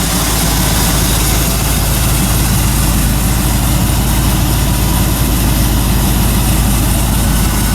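A 427 big-block Chevy engine idling loud and close in a firetruck COE hauler, a continuous low rumble with a slightly uneven pulse and no talk.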